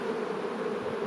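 Honeybees buzzing densely at an open hive during a spring inspection, a steady close drone with no pauses and no voices.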